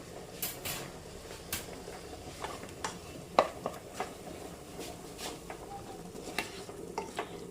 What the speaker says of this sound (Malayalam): പിന്നെ നമ്മളിവിടെ കട്ട് ചെയ്ത് വെച്ചിട്ടുണ്ട് തക്കാളി, അതിട്ട് കൊടുക്കാം